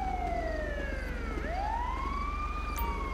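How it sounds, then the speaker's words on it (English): An ambulance siren in the LSPDFR police video game wails in long rising and falling sweeps as it pulls up on scene, loud and continuous over a low engine drone, with no talking. "ambulance is arriving on scene"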